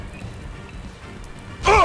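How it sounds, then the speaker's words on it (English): Rain begins falling in the video game Citizens Unite: Earth X Space, a soft, continuous patter under game ambience, cut off at the end by a burst of voice. "Starts raining."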